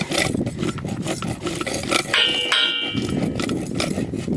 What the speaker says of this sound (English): I hold the rasp at an angle like this to the hoof, and I just go around that edge in the toe area